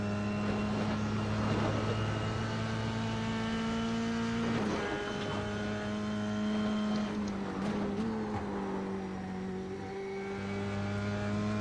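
Formula 3 race car lapping Oulton Park on cold tyres, its engine a steady, loud drone that climbs and drops through gear changes and revs throughout.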